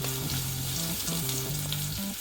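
Garlic, shallots, curry leaves and green chili sizzle and crackle steadily in hot oil while being stirred, a close, continuous frying hiss with faint tonal background sounds.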